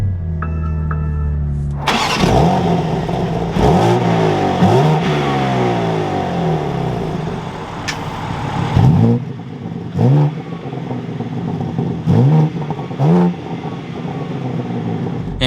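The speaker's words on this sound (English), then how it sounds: "Let's fire up this M3 though." A 2022 BMW M3 with a six-speed manual fires up with a loud burst, then its engine revs sharply several times, each rise and fall repeating at close range between idling stretches.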